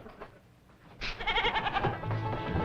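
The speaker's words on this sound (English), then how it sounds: "Your goat, sir." A goat bleats in a 1960s sitcom scene: after a quiet, low start comes a loud, wavering, nasal bleat that lasts about a second and a half, close by, with no talking over it.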